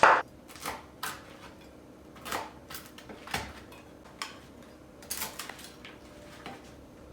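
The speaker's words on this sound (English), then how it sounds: "So we're gonna go ahead and just cut them into about inch cubes." Rapid knife strokes chop two bread slices into inch-sized cubes for croutons on a board, a series of about a dozen sharp, close taps and crunches at uneven intervals, with no talking.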